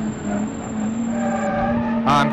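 Tyres squealing and skidding as a heavy custom car brakes hard in BeamNG, a sustained screech over engine hum, with a sharper burst at the end.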